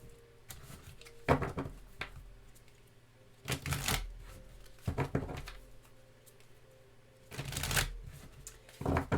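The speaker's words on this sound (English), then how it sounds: "I'm going to pull a animal spirit card" A deck of animal spirit oracle cards is shuffled in several short riffling bursts separated by quiet pauses, close and fairly soft, with no talking.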